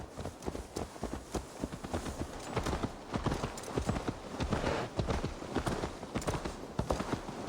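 Horse hooves clip-clop in a quick, uneven rhythm in Assassin's Creed Valhalla, the close, fairly soft hoofbeats running continuously as the horse trots along.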